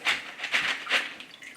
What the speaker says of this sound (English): So we're just gonna drain the brine from the mixture a bit.